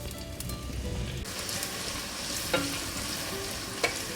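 Crushed ginger and garlic frying in hot coconut oil for a crab roast, a steady close sizzle with stirring scrapes and a couple of sharp utensil clinks, no talking.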